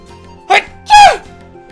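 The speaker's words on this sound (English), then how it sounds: "By the time I realized I was gonna sneeze, I wasn't able to hit my mute button." A single close sneeze with a brief intake followed by a loud burst, caught on a live gaming streamer's microphone against near silence.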